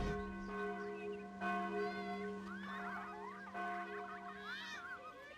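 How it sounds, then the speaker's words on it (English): Alarm bells ringing in the video game Sudeki, resonant bell tones struck repeatedly with long ringing sustain, mixed with honking bird-like calls, fairly faint. "Tal, the alarm bells are ringing."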